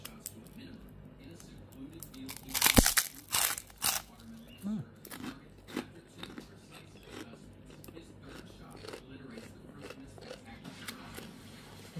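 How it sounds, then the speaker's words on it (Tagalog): Someone bites into crunchy homemade pork crackling, with a loud burst of crunching early on and then softer, scattered chewing crunches, close up in a quiet room. "Tikman natin kung malutong na."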